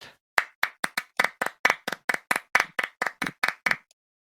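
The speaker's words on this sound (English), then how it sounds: "we will get more dynamic claps, generating a public effect" Clap samples triggered in Ableton Live: about fifteen crisp, evenly spaced hand claps in a quick steady rhythm, dry and close, ending abruptly with silence.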